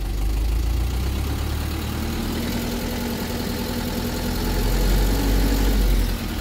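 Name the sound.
Mitsubishi Fuso FE-SP 4D34 turbo diesel truck engine idling high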